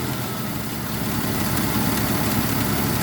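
The engine of a Jeep idles steadily with a constant low rumble and vibration, close and even, its pitch sagging slightly as the revs drop.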